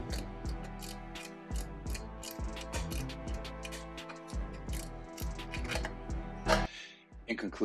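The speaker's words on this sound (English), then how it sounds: "Proceed to tighten all four bolts." A ratchet wrench tightens the bolts of a rear rack on a Trek 520 touring bicycle, giving quick, close, repeated clicking strokes in a steady rhythm, with a short pause between runs.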